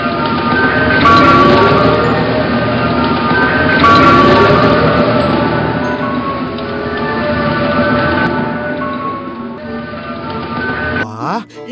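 A toy ice cream truck plays its jingle alone, a loud electronic melody repeating steadily for several seconds before cutting off abruptly at the end.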